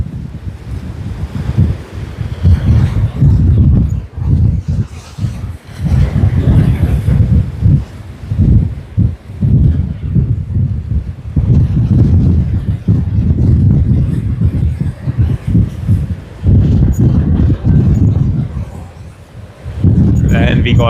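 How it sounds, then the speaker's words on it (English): Strong wind gusting around Sydney Airport during the pre-Christmas rush, a loud roaring rumble buffeting the microphone in waves, with a voice talking over it at times. "even the wind is rushing us like crazy"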